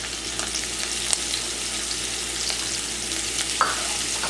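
Green onions hit a hot pan while fried potatoes cook Guyanese style, giving a steady broadband sizzle at close range with a few small pops and stirring scrapes, no voices.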